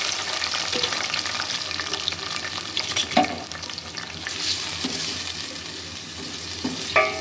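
Half a kilo of chicken pieces browning in about 50 grams of oil for a curry, giving a constant hissing sizzle close up, with occasional stirring scrapes and clanks of a spatula against the pan.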